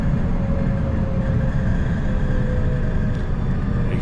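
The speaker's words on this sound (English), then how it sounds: "You can hear the train rattling sometimes." Train rattle fills a carriage pulling into Ishiyama station in Japan, a steady loud rumble of wheels and car body with a faint hum on top, no talk over it.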